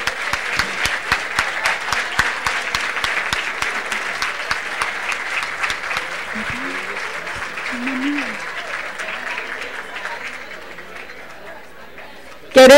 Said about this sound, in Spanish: para que reciban un fuerte aplauso de todos y todas